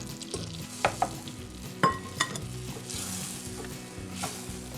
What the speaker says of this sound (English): I stir that until it's incorporated